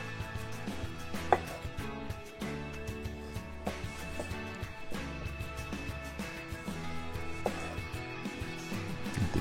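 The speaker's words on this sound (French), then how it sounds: "ces tomates, on va venir les couper en tranches assez épaisses, compter environ un bon centimètre d'épaisseur." Green tomatoes are sliced with a knife into thick slices, about a centimetre each, for a cake, a few distinct cuts standing out against steady background music.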